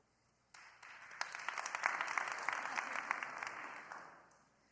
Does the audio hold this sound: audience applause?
yes